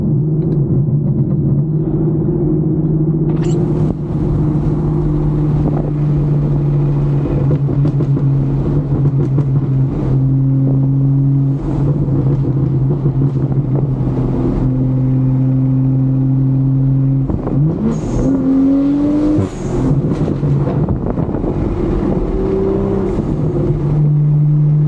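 Steady low engine drone from inside a 430hp Stage 2 tuned car running 95 octane fuel, overrunning downhill in fourth gear, holding an even pitch with small shifts and a brief dip and rise near the end, loud and continuous.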